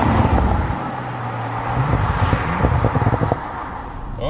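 An Audi RS5 Sportback pulls away, its engine note rising from a low rumble with a few sharp pulses over steady road and wind noise, fairly close and moderately loud, with no talking.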